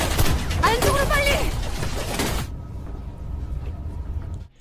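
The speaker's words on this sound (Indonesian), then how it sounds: "di sana terjadi aksi baku tembak yang cukup menegangkan" Gunfire crackles through a tense shootout in a film, a dense, chaotic burst of shots mixed with voices and music. It cuts off abruptly halfway, leaving only a low, quiet background.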